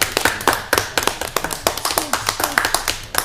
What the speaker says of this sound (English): Let's all give them a round of applause for their exceptional